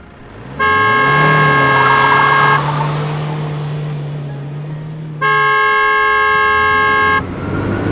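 A water lorry approaches, sounding two long, loud blasts of its horn separated by a few seconds, while a deep engine rumble builds underneath and fades after the first blast.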